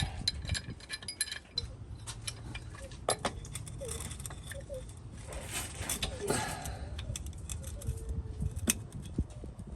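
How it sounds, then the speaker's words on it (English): A pipe wrench grips and loosens a part during a car oil change, producing irregular metallic clinks, scrapes and ratcheting clatter close by. "I'm gonna try a pipe wrench."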